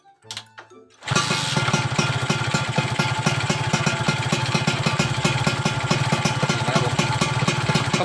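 A cold motorcycle engine fitted with a tuned carburetor cranks with a few brief sputters, then catches and settles into a loud, steady, even idle close by.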